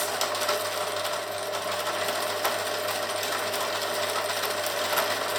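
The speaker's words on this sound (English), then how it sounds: "we've stitched the piping on all the way round" Sewing machine stitching piping onto a cushion cover, a steady fast mechanical whirring and clatter held at even loudness throughout, close up with no talking.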